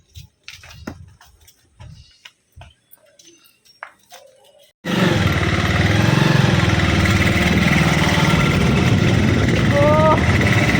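A motorbike engine starts up abruptly partway through and then runs steadily and loudly, a constant close drone, after a stretch of speech, handling sounds and quiet.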